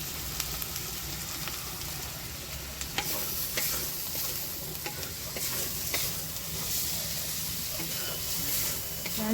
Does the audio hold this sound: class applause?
no